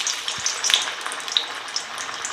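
Veg Manchurian balls fry in hot oil at medium heat, a close bubbling crackle with scattered sharp pops over a steady sizzle.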